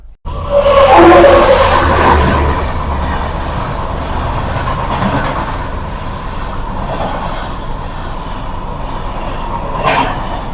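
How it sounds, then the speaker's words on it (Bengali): The Guwahati–Howrah Saraighat Express passes by a rail bridge at Nasipur. A loud, close roar swells at the start and settles into a steady rumbling clatter of wagons for the rest of the clip. "গুয়াহাটি হাওড়া সরাইঘাট এক্সপ্রেস চলে গেল"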